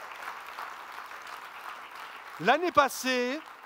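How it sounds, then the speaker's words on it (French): A church audience applauds the volunteers who serve at Espoir, a steady wash of many hands clapping at moderate volume before a voice cuts in at the end. "Est-ce qu'on peut les applaudir encore bien fort et bien fort?"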